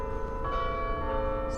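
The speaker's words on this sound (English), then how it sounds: "Oh, there's the church bell." Sustained church bell tones ring out steadily, layered and resonant, filling the space from moderately far off, with the hum of the ringing continuing throughout.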